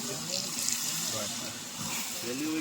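Water pours into a pan of simmering gravy at an outdoor party cookout, a steady splashing gush running throughout with voices talking nearby.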